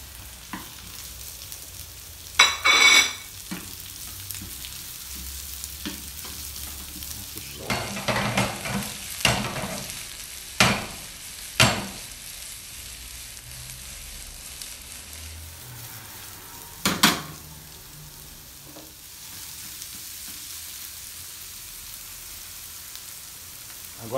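Zucchini sautéing in a pan with browned garlic: a soft background sizzle broken by several sharp scraping stirs and clatters, close and intermittent.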